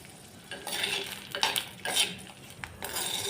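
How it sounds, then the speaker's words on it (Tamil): Okra being sautéed in oil in a pan, with a steady frying hiss and several bursts of utensil scraping and stirring close by. "இப்போ நம்ம இந்த எண்ணெயில் இந்த வெண்டைக்காயை கொஞ்சம் உதக்கி எடுத்துக்கலாங்க"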